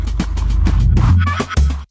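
Mellotron-sampled drum effects loop played dry without phaser: a quick series of close, punchy hits with a low booming body, ending abruptly.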